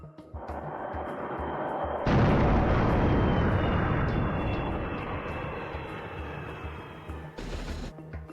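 A Ukrainian MiG multirole fighter jet roars overhead, with a low engine drone that swells into a loud broadband blast after two seconds, then fades gradually before a brief sharp burst near the end.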